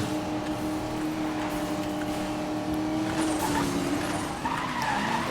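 A car in Need for Speed: Most Wanted (2012) skids sideways with a sustained tire squeal over a steady engine drone, loud and close, without any talking.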